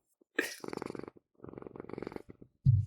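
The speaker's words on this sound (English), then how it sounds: "Purring?" A big cat named Banksy purrs in low rumbling bursts close to the microphone, mixed with soft vocal sounds in short rhythmic pulses.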